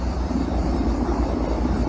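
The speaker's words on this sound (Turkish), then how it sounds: "Helikopterlerde biri gidiyor, biri geliyor." Helicopters flying over during a wildfire in Manavgat, a loud, steady rotor and engine drone close overhead with wind buffeting and no talk.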